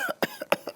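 Several short, sharp coughs in quick succession on a late-night talk show, close and fairly quiet, with no talking.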